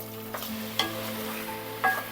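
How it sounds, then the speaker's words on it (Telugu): Washed chicken stirred into garlic paste frying in a pan, a low continuous sizzle with a few sharp clinks and scrapes of a spoon against the pan, no talking. "వెల్లుల్లి పేస్ట్ మనకు ఫ్రై అయిపోయిందండి. నేను ముందుగా కడుక్కొని పెట్టుకున్నా కదా చికెన్ని ఇందులో వేస్తున్నాను."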